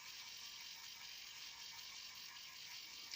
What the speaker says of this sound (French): Voilà, c'est déjà en train d'imprimer.